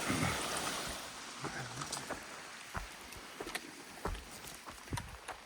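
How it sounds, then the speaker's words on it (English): Mountain creek flowing on the Pacific Crest Trail, a steady broadband rush of water with scattered close splashes and drips over the constant flow. "This is Moosehead Creek, where I just got a bunch of water."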